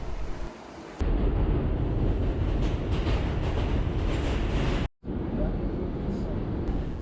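Riding a New York City subway A train: a loud, continuous rumble and rattle of the moving car fills the ride, with a brief quieter moment at the start and a short dropout near the middle.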